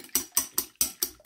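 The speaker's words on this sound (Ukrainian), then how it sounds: "Я зазвичай збиваю, щоб воно побіліло" Egg yolks being whisked with salt in a bowl, quick rhythmic scraping strokes about five times a second, close and fairly crisp, with no talk.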